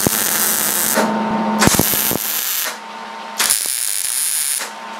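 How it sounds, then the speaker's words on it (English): A part for a spring making device is arc welded in short bursts, a loud, close, hissing crackle that starts and stops three times with brief pauses between. "I'm going to weld it just because it's easier for me to do that."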